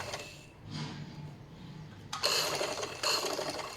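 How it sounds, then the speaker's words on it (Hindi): A sewing machine stitching slowly along the cut-work edge of tissue fabric for a dress, faint whirring at first, then two louder bursts of rapid mechanical clatter near the end, no voices. "यहाँ पे आपने आहिस्ता आहिस्ता मशीन चलानी है।"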